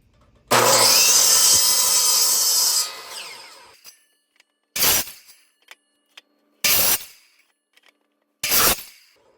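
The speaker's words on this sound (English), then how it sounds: "We're ready to cut our bevels on this." A saw cuts bevels into wood for a carpenter bee trap: one long, loud cut of about two seconds, then several short, sharp bursts of sawing with quiet gaps between them.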